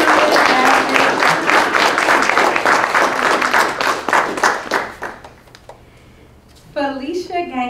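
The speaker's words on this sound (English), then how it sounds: "If we can give a round of applause for our panelists." An audience applauds panelists, lively clapping for several seconds that thins out and dies away, followed by a brief pause before a voice starts speaking.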